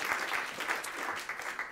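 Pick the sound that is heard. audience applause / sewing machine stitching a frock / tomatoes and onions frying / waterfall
audience applause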